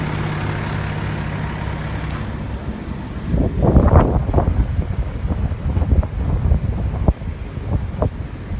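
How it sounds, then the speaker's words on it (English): Gusting wind across an outdoor microphone in northern Goleta during a wildfire amid dry brush, oak and scrub, a low rumble that swells after a steady start into uneven buffeting bursts, loud and close, with no talk. "We've seen these winds really peak and dip over the last hour or so here in northern Goleta."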